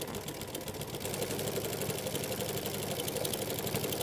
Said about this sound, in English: Hey, we're sewing.